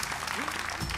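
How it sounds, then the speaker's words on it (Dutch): Brief burst of audience applause for a speaker at a masterclass event, a short wash of clapping with faint voices mixed in. "Dank en een applaus voor Sander, zou ik zeggen."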